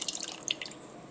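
Lukewarm water poured from a small vessel into a cup of Ayurvedic medicine, a brief soft trickle with light drips, close and quiet.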